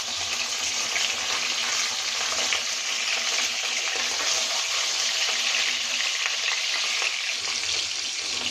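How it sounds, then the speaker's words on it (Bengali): Pabda fish frying in hot oil after being flipped, a loud, steady close sizzle and crackle that holds evenly throughout, with no talking. "মাছগুলো উল্টাই দেওয়া হয়েছে"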